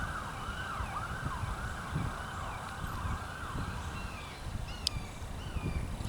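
An ambulance siren wails with a repeating rising and falling tone, moderately distant and passing over faint road traffic, with no talking.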